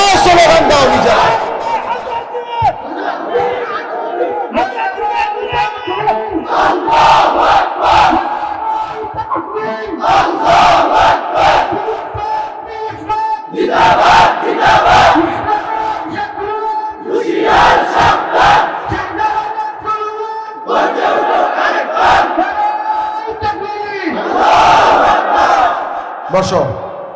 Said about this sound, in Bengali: দাও স্লোগান দাও, দাও স্লোগান দাও নিজেরা